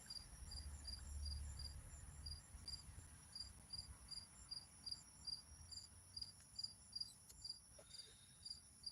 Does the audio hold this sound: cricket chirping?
yes